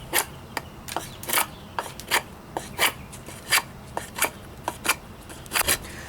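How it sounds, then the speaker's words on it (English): A Schrade SCHF56L fixed blade knife with its factory edge takes full shaving strokes, giving a dozen or so crisp, close scraping rasps in an uneven rhythm, with no voices. "let's do some full strokes here, see what we can shave off"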